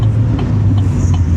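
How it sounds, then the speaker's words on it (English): Truck engine idling with reduced engine power, a steady low rumble close by with a faint uneven flutter, no talk over it. "It says engine power is reduced, and I can guarantee you if I give it some gas, usually it stalls."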